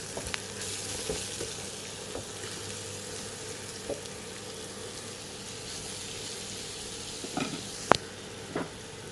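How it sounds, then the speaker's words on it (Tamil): Carrot and cabbage stir-fried in a pan, a steady close sizzle with occasional scrapes and clinks of the spatula, brief sharp taps near the end, no talking. "முதல்ல கேரட்டையும் முட்டைக்கோசையும் சேர்த்து கிளறிட்டு அதுக்கப்புறம் நம்ம குடமிளகாய் சேர்த்துக்கலாம்."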